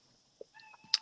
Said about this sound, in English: oh, my cat's meowing